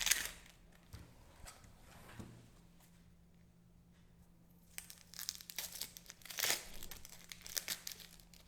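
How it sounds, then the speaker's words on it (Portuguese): Dry onion skin is peeled off by hand in a kitchen, giving quiet, scattered crinkles and tearing rustles that grow busier and louder toward the end, with no talk. "A casca da cebola eu não vou usar, eu vou tirar"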